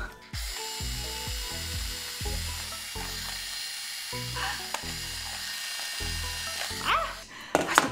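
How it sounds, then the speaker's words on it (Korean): Screwdriver scraping and prying at the thick shell of an ostrich egg, a string of close, irregular gritty clicks and scratches with steady background hiss, with no voice heard. "드라이버."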